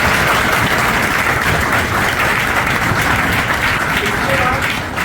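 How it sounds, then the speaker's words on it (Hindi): Loud, sustained applause from an audience at a police academy welcoming ceremony, a dense wash of clapping held steady the whole time with faint voices mixed in. "एक बार मैं पुनः उनके लिए जोरदार तालियां।"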